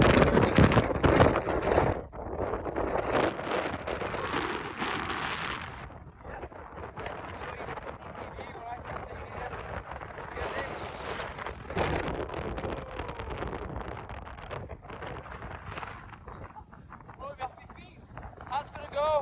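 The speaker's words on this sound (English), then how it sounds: "Very windy, so." Strong wind buffets the microphone on the summit of Sheffield Pike, a mountain in the Lake District, with gusty low rumbles and rushing noise. Someone talks over it throughout.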